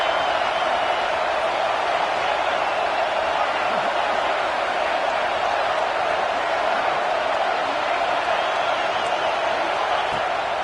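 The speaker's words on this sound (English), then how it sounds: "Decibels rising as the crowd gets behind this defense on 3rd down." A football stadium crowd roars for the defense on third down, a dense and unbroken wall of loud cheering noise that holds steady from start to finish.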